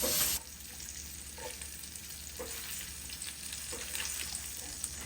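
Andouille sausage frying in a pan sends up a dense, steady crackling sizzle that stays even throughout, broken only by a few faint knocks.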